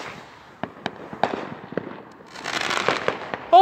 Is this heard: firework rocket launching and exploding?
yes